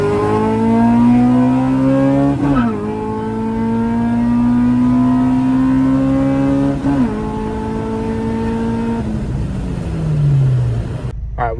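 An Acura RSX Type-S engine running a Ktuner basemap revs hard close by, climbing repeatedly through the gears with sharp drops at each shift before easing off, loud and alone.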